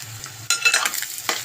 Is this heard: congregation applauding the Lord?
no